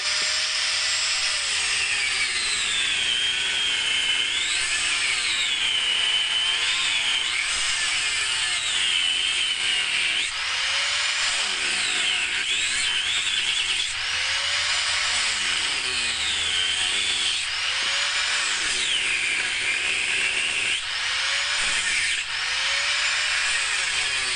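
An angle grinder cuts through rusted motorcycle parts during dismantling for scrap recycling, a loud, steady, high-pitched whine that rises and falls again and again as the disc bites into the metal.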